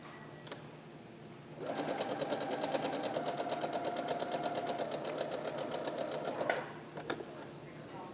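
A sewing machine stitches quilt pieces together in one steady, rapid run of needle clatter lasting about five seconds. Faint clicks come before and after it.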